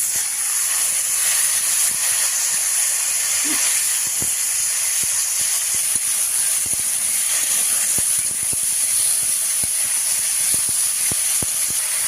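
Potatoes and taro added to a cooking curry, a continuous loud hissing sizzle that holds steady throughout, with scattered faint clicks underneath.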